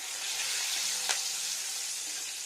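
Spices and green chillies frying in oil in a pan for a potato and pointed gourd curry, giving a continuous close sizzle with one brief stirring clink midway and no speech.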